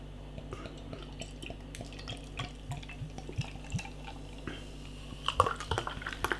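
Dugges Cocoa Cacao Imperial Chocolate Stout poured from a bottle into a glass, with soft liquid splashing and glassy clinks growing busier toward the end, fairly quiet and with no voices.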